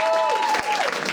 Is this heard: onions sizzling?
no